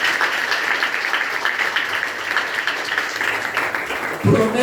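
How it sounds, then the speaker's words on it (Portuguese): Wedding ceremony guests applauding in a church, a steady wash of many hands clapping at moderate distance for several seconds, ending as a voice begins to speak. "Vamos aplaudir Jesus"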